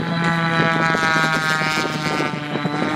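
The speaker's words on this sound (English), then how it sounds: "Now coming back in, he will roll the aircraft upside down." Aerobatic airplane flying maneuvers at an air show in Stuart, Florida, its propeller engine droning loud and steady with shifting tone throughout, no voices heard.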